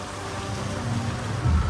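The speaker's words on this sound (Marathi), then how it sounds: "एवढं पाऊस बघून हा पाऊस बघून" Heavy rain falls during an evening festival gathering, a dense, continuous roar of drops close by with a low rumble rising toward the end.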